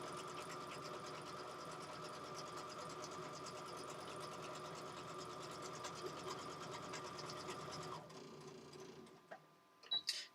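A sewing machine runs steadily, stitching fat-quarter fabric into oversized double-sided placemats with a fast, even mechanical whir, then stops near the end, leaving a few small clicks and handling noises.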